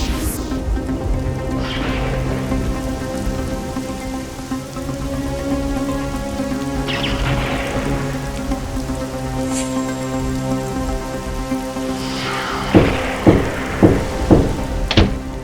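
Heavy stormy rain pours in a dense, continuous hiss at night, with a tonal hum underneath and a few sharp hits near the end.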